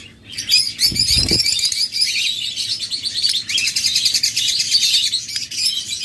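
A pair of caged pet birds, sold at a bird market alongside lovebirds, budgerigars and cockatiels, chirp and twitter rapidly and continuously at close range, with a brief low thump of wing flapping near the start.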